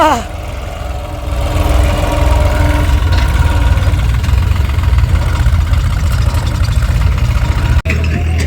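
A tractor engine runs in a farm field while clay soil is being dug and moved, a loud, steady, close mechanical drone and chug that continues throughout with a brief dropout near the end.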